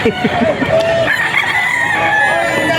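Boston Roundhead gamecock about two years old crowing at a bustling poultry auction market in Bocaue, a loud full crow running through most of the clip over crowd noise and other clucking fowl.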